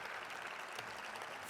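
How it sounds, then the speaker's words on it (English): A dense wash of audience applause honours police officers at a police department annual awards ceremony in Phoenix, steady and fairly soft throughout with no voices over it. "give all of our officers a big round of applause"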